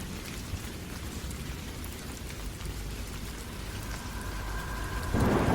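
Steady drizzle of rain falls on an evening village footpath, a continuous dense hiss of drops with no voices, growing a little louder near the end.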